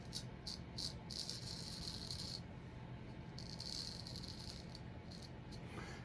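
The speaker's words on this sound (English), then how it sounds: "most people that's listened to straight razor shaves before, it has a little bit different tone to it" A Zertone straight razor scraping across skin during a shave, a faint series of close raspy strokes in short bursts, some quick and some drawn out, with no one talking.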